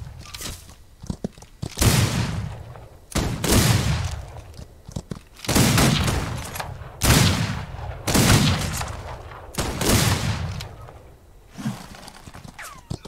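Repeated bursts of gunfire in the Wild West video game Outlaws of the Old West, about six loud, sharp shots at irregular intervals with echoing tails, mixed with horse hoofbeats and neighing sounds.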